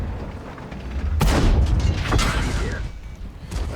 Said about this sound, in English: T-54 lightweight, probably firing high explosives there, high explosive ammunition there